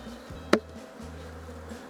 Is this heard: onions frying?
no